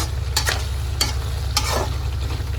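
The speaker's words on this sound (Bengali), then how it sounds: "এখানে মুসুরের সাথে পুশাকের ডাটাগুলো ভালো করে কষাই নিলাম" Lentils and pumpkin stalks are sautéed in a pan, giving a steady sizzle broken by three or four sharp scraping stirs of a spatula, close and fairly loud, with no talking.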